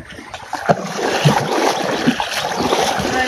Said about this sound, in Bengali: আর ওইখানে দাদু জল বের করছে